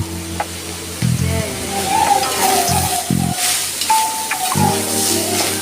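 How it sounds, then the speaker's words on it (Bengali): Pointed gourd (patol) with onion, salt and turmeric sizzles and fries in a pan while being stirred, a continuous close hiss with scraping stirs, and a steady hum underneath. "আমি এইভাবে নাড়াচাড়া করে করে আস্তে আস্তে পটলটাকে বেজে তুলে নেব"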